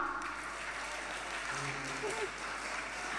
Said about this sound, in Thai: ปรบมือนะ ปรบมือก่อนออกนะ